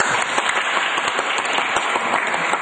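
Audience at a meeting of a campaign team and volunteers in Banten breaks into lively applause, a dense, steady patter of clapping that carries on without a break throughout.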